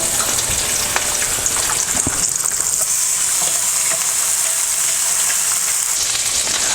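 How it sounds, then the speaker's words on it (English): Burger patties sizzle and fry steadily on a skillet beside bacon, a loud, continuous crackle with scattered pops close by. "I think it's time to throw some patties on."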